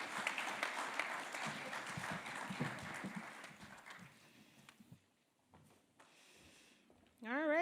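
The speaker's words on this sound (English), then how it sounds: "please give a round of applause for our data and trends panel" Attendees at a traffic safety summit plenary applaud a data and trends panel, a moderate wash of clapping heard from a distance that thins out and fades within about four seconds, followed by quiet room tone and a brief tone at the end.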